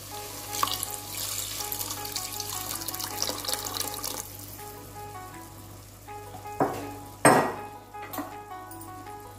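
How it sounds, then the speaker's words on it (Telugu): Tamarind juice is poured into a pan of hot oil with eggs, making a watery frying sizzle that surges into a sharp, loud burst of hissing near the end, close and otherwise fairly soft. "ఇప్పుడు ఇందులో చింతపండు రసం వేసుకుందామండి."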